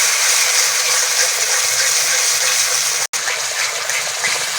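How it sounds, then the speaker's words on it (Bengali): Whisked sour yogurt added to ground spice paste frying in a pan for vegetarian aloo dum: a loud, steady, rushing hiss that runs almost continuously, with one very brief dropout. "টক দই নিয়েছি ছোটো বাটির এক বাটি দিয়ে দিচ্ছি"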